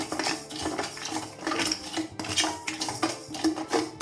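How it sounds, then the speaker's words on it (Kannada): Rice grains dry-roasting in a pan on the stove for gasagase payasa, with a steady rattle of grains and repeated metallic scrapes of a utensil against the pan, close and moderately loud throughout. "ಇವಾಗ ಈ ಕಡೆ ಇನ್ನೊಂದು ಪಾನಲ್ಲಿ ಅಕ್ಕಿನ ಹುರ್ಕೊಳ್ತಾ ಇದ್ದೀನಿ"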